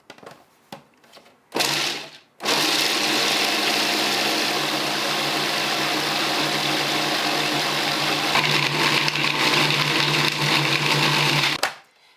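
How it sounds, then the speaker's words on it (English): A food processor grinds pesto ingredients in its bowl, a loud steady motor whir with a churning drone that runs unbroken for about nine seconds after a few brief clunks, then stops abruptly. "All you need is the food processor. Just put everything in the bowl, turn it on, and just grind it until it's a consistency that you like."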